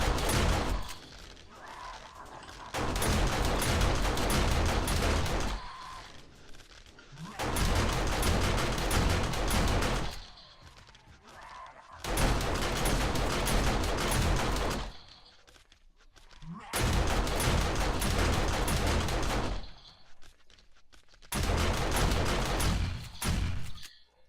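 Auto turrets and shotgun turrets in 7 Days to Die, ten to a side, fire on zombies in long loud bursts of rapid gunfire. The bursts come in four or five stretches with brief quieter gaps between them, and no one speaks.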